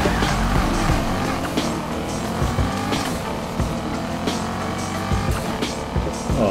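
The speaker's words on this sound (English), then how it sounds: "That sounds like a Ferrari." Ferrari engine in the racing game Need For Speed: Heat, a sustained loud revving roar with rises and falls and brief tire noises, no talk.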